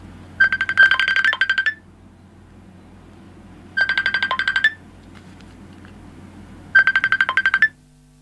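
A phone ringtone plays three times in clear, identical repeating bursts of rapid, bright electronic tones, each about a second long with gaps between, over a low steady background hum.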